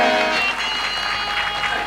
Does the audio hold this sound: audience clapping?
yes